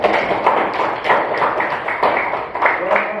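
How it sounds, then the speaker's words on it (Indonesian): Children in a third-grade classroom clapping their hands together in a steady rhythmic pattern of quick claps, close and fairly loud, with voices mixed in. "Tepuk tangan."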